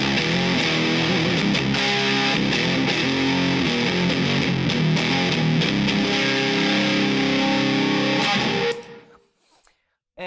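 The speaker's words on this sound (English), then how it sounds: "that's a fuzz pedal" Seymour Duncan Tweak Fuzz guitar pedal played through an amp: loud, steady gritty fuzz-toned guitar chords and riffs with fizzy highs, continuous for about nine seconds before cutting off abruptly into near silence.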